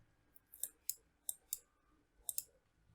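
Several crisp computer mouse clicks, single and paired, in an uneven rhythm, close and fairly quiet against a faint background hum while dragging a file into a folder.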